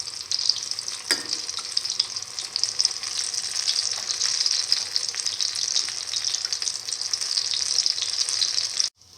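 Chicken, potato and chickpea fritters frying in oil, a bright continuous crackling sizzle held at a constant level, with one sharp tap early on, ending abruptly.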